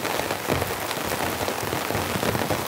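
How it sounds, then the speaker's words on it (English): Heavy rain pours down on an ultralight tent, a loud, dense, continuous patter of drops drumming on the fabric close overhead with no pauses. "It's absolutely pouring down."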